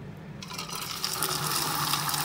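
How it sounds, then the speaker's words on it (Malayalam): A large ladle of egg batter hits hot coconut oil in a pan, and a bright, close sizzle rises sharply from near silence and keeps building into a steady frying hiss. "ഇനി ഇതിലോട്ട് നമുക്കൊരു തവി ബാറ്റർ ഒഴിക്കാം."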